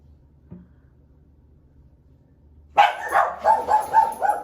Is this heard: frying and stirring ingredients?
no